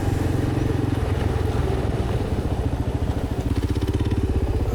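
Kawasaki KLR 650 motorcycle engine running steadily nearby with a loud, continuous thumping idle that stays level for the whole span; no clear shutdown is evident.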